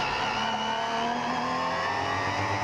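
A KTM race car at the Zolder circuit during a 2014 race drives past close by, its engine a loud, steady, unbroken roar with no voices.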